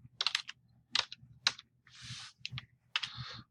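Quiet computer keyboard typing in short bursts of clicks separated by brief pauses, close and fairly faint, with no voices.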